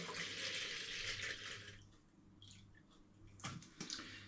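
Still spring water glugs and splashes as it is poured from a 2 litre plastic bottle, a close, rushing pour for under two seconds before tapering to faint trickles and a few small knocks.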